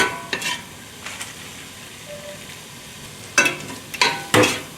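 Yellow curry sizzles steadily in a pot while a spoon stirs it, with a few louder scraping strokes near the end over the quiet background bubbling.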